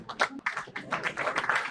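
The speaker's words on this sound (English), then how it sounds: "Big round of applause, ladies and gentlemen. Let's keep it going." Applause from an audience at an awards ceremony, a short burst of scattered clapping at moderate level, uneven and fairly close.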